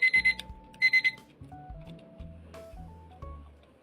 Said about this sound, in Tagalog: Ewan ko na lang talaga kung di pa sila magising dito.